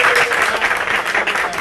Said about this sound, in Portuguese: dá um Palmas pro Bud